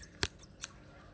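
A pair of scissors snipping in open air, three short, crisp snips, the first loudest, spaced unevenly across about a second, against a quiet background.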